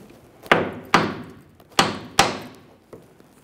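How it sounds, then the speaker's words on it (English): Small hammer striking a rusted rear leaf spring bump stop on a 1999-2006 Chevrolet Silverado 1500, five sharp metallic blows at uneven intervals, each decaying quickly, close and loud. "We'll use a small hammer and give it a tap to break it free."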